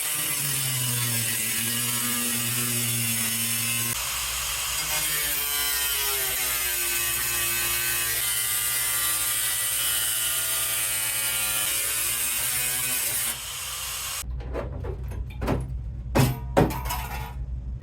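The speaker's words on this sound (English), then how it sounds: "I'm going to use my angle grinder again." An angle grinder cuts holes into a car hood while a hood vent is installed, a loud steady whining grind with a shifting pitch that runs without a break for about thirteen seconds, then stops and gives way to a few short clanks.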